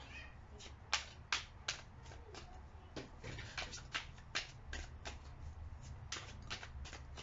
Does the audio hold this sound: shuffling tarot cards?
yes